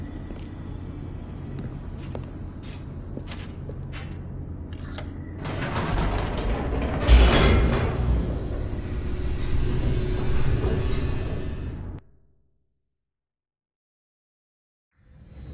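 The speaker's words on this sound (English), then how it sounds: "The elevator raced downward, plummeting towards an unknown fate." An elevator descending in The Stanley Parable gives off a loud mechanical rumble with creaks and grinding, rattling gears that swell midway and then cut off abruptly into silence.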